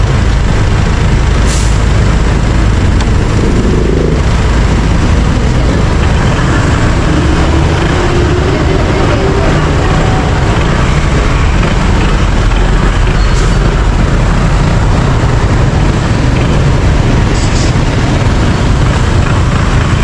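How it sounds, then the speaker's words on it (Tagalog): Steady roar of road traffic passing a rural farm, a continuous broad rumble of vehicles with no pauses, fairly loud and close, alone without talk. "Traffic."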